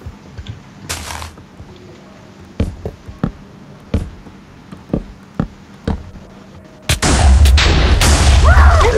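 Gunshots in a Minecraft-style Skywars video game: a dozen short, sharp cracks spaced irregularly through the opening seconds, followed by a louder sustained noisy burst near the end.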